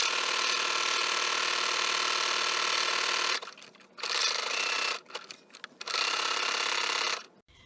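A sewing machine runs zigzag stitches along the edges of a doll skirt's fabric, a steady loud whirring that stops briefly twice before resuming in short bursts, with no talking.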